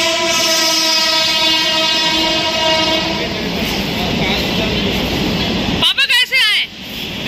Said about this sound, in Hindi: पापा आप अभी भी ट्रेन गिनते हो, ट्रेन के डिब्बे?